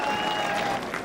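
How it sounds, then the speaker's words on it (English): A large racecourse crowd applauds and cheers loudly for the racehorse Desert Orchid returning after his win, a dense, continuous wash of clapping. "The applause from the crowd when he came back after winning the race"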